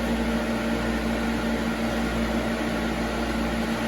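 A Grizzly G0458Z drum sander runs at a constant speed, a steady motor hum with an even whir that stays unchanged throughout, with no voices.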